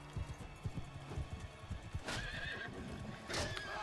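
Horses neigh and hooves clip-clop in the medieval combat game Mount & Blade 2: Bannerlord. Two loud whinnies ring out over a steady, busy patter of hoofbeats.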